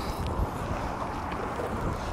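Strong, steady wind buffeting the microphone with a low rumble, continuous and close, with faint water movement underneath.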